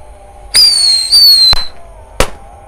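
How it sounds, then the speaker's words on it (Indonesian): Two Tico Store Roman candle fireworks, size 1.9, lit together for Lebaran: a shrill whistling shriek rises and wavers for about a second, then sharp loud cracks burst out, with a final bang moments later. "selanjutnya kita nyalakan mercon Tico Store 2 sekaligus"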